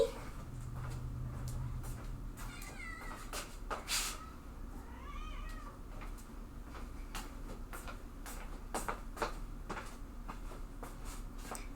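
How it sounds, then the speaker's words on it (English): A whiny cat meows repeatedly in a quiet indoor room, the thin calls rising and falling at moderate distance amid faint household clicks and low background hum. "I hear a whiny kitty."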